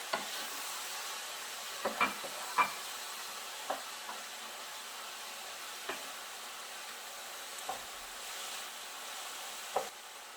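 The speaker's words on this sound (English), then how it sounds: "I'm going to continue stirring this for another couple of minutes, and again I'm adding some more vegetable stock." Cauliflower fried rice with added vegetable stock being stirred in a pan, faint soft simmering hiss broken by occasional scattered clicks and scrapes of the utensil.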